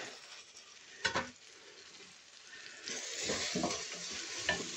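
Onions, green peppers and tomato fry in a pan, a soft continuous sizzle with occasional stirring scrapes and brief clatters, quiet and close, growing slightly louder partway through.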